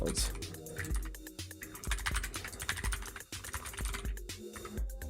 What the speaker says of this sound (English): maybe you don't want to hear me clacking on the keyboard all the time